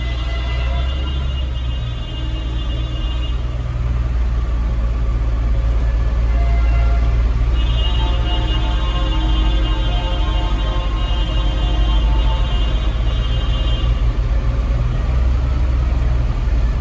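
A tractor engine idles on a town street during a farmers' protest, a loud, steady low rumble close by with a higher mechanical hum that comes and goes.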